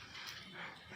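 A dog at a park makes faint whimpering, panting noises against a soft, steady outdoor background.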